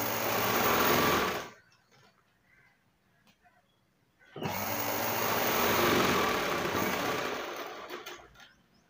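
Electric sewing machine stitching a blouse whirs in two bursts, a short one then a longer steady run after a pause, close and loud with no talk.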